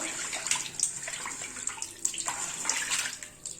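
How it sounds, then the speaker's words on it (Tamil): Running water splashes and sloshes as a fish is rinsed and turned over under a tap, with irregular watery bursts close by. "நல்லா மீனை வந்து நல்லா திருப்பி திருப்பி வாஷ் பண்ணணும்"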